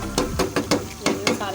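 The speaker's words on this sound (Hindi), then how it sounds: "अब इसमें हम सारे मसाले ऐड कर देंगे।" Spices going into an onion, tomato and ginger masala frying in a pan, heard as about seven quick scraping and stirring strokes over a steady sizzle, close by.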